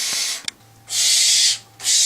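Owl being fitted with button jesses, a swivel and a tether, heard as two loud bursts of broadband rustling and flapping with brief clicks between them, no talk.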